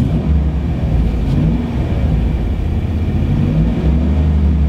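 A car engine drones steadily and loudly at close range, its low rumble holding level as the gas pedal is pressed, with no clear rise in pitch.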